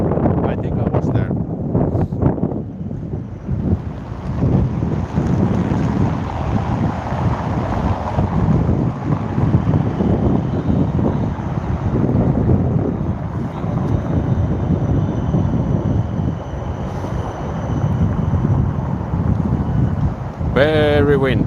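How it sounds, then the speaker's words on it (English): Strong outdoor wind in Helsinki's Katajanokka district buffets the microphone in a continuous loud rumble, with gusty swells and no clear pauses. "It's a little bit windy over here"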